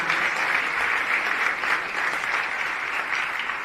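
A town hall audience rises in a standing ovation, dense continuous applause at steady volume, slightly easing toward the end.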